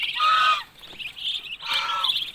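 Pet ducks penned up near a rabbit enclosure give bursts of loud, nasal quacking and honking, two strong calls with a quieter stretch of chatter between them, close by and with no talk.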